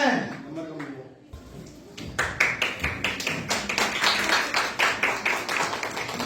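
A crowd at a 2024 grand finale stage event claps in steady rhythmic unison for several seconds, fairly loud and close, after a brief stretch of talking.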